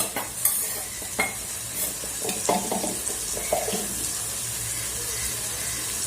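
Ground turmeric and spices sauté in a pan for crab soup, a steady soft sizzle broken by a few sharp clicks and scrapes of a spoon stirring.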